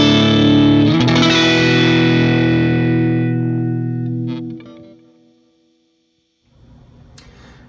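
Electric guitar through a Universal Audio UAFX Ruby Vox amp modeler: a strummed chord rings loud and bright, slowly decays into silence, then a faint scratchy rustle follows.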